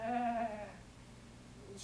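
A single sheep gives one wavering bleat, close and clear, that fades after about half a second into quiet background.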